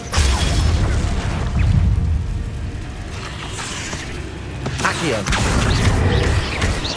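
Protego shield spell cast in Hogwarts Legacy during a cave fight, a soft whooshing shimmer over a dense, rumbling game soundtrack with mechanical clanks and impacts, loud and continuous throughout.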